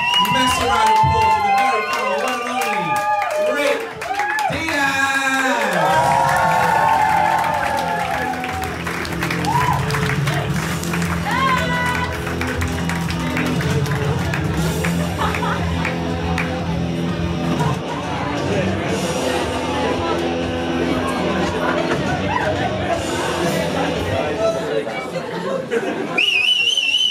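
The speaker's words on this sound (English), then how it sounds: "Massive round of applause." Loud applause with cheering and whistles from a comedy club audience, sustained for most of the stretch, with an announcer's voice heard over the crowd early on.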